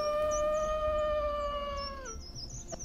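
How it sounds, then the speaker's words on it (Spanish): A wolf-like creature in a Final Fantasy game lets out a loud, sustained howl with a steady tone that breaks off after about two seconds, followed by faint game sounds. "¡Aullo!"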